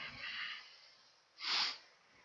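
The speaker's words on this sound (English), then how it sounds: "I know I'm sniffling a lot." A person with a cold sniffles twice through the nose while wearing a dust mask, first a softer drawn breath and then a sharper, louder snort, close and alone.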